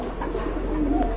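Pigeons cooing at a market stall, a low, continuous murmur of soft coos from several birds close by, with no talking.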